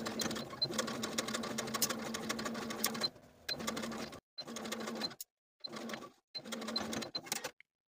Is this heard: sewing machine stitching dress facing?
yes